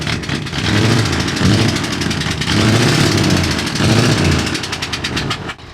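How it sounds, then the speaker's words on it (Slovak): A heavy truck engine that sounds broken runs loud and close, with a rough, sputtering rumble that pulses unevenly before dropping off at the end. "Zdá sa, ako by sa pokazil motor alebo niečo podobné."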